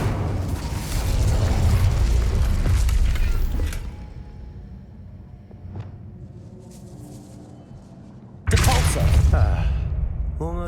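A burst of fire from the Incendio spell cast in Hogwarts Legacy, a loud crackling whoosh that flares up, fades to a low rumble, then erupts again near the end over in-game ambience.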